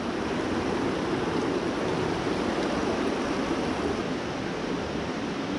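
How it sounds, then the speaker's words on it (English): A river runs through a dark cave, giving a steady, loud broadband rush of flowing water that continues unbroken and without pause. "we're in this dark cave and the river runs right through it."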